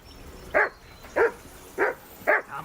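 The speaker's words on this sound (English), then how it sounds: "Henry, whistle at that mutt of yours to stop barking" A dog barks in Kingdom Come Deliverance II, four sharp, evenly spaced barks at close range over a quiet background, with no talking.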